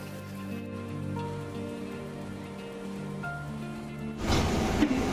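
Finely chopped ginger and garlic go into hot oil and fry. A soft steady sizzle and low hum run at first, then a loud, dense crackling sizzle bursts in near the end as the ingredients hit the oil.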